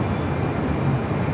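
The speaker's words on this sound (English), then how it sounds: "Have another Delta 757 200 heading to Atlanta, Georgia, flight 744." A Delta Boeing 757-200 airliner at LAX, its steady broadband jet roar filling the air with a low rumble, continuous and fairly loud, no voices over it.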